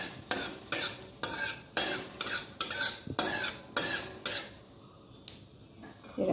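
Whole cumin seeds in hot oil are stirred with a utensil, giving a series of about nine rhythmic scraping strokes against the pan over a faint sizzle, then a brief pause.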